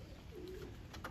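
Racing pigeons in a loft, mostly pure white birds, cooing softly at a steady low murmur with a brief brighter call near the end, faint and close with no talking.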